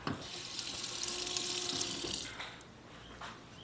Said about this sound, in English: Let me rinse my spoon here.